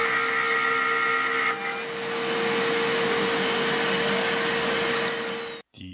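A DIY milling machine cutting into a steel workpiece, giving a steady, loud machining whine with a constant tonal hum throughout, then stopping abruptly near the end.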